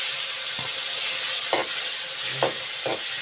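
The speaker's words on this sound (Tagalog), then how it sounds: "Itaw natin yung ating sibuyas." Onion sizzles and fries in a very hot pan, a steady bright hiss with a few soft stirring scrapes, close and without talk.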